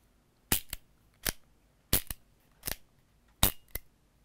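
A Gletcher NGT Nagant replica BB pistol fires five sharp, close cracks at roughly even spacing, each followed by a fainter mechanical click, with silence between shots and no talking.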